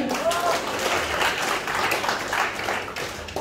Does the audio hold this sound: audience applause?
yes